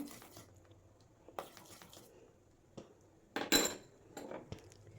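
Homemade papaya soap ingredients are mixed in a bowl: scattered clinks and scrapes of a utensil against the bowl, close and sporadic, with one louder clatter midway and no speech.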